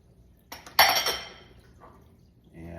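A kitchen bowl being handled while preparing rye sourdough, with a bright clinking knock and a clatter near the start. A fainter rattle follows, then a soft scrape near the end.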